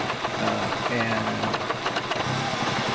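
A turbocharged engine idles steadily, a continuous mechanical chatter and hum at close range that holds level throughout the short stretch.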